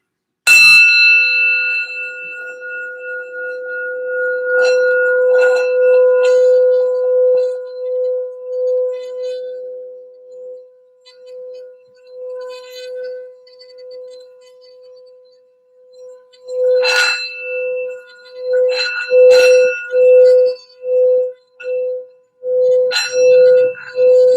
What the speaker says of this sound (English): we're going to do a quick little sound bell for some general healing and grounding.